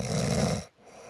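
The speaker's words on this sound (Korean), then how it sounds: "코골이 소리가 심각하면 남에게도 피해를 줍니다." One loud, rough snore rattles close by for about half a second, then cuts off into near silence.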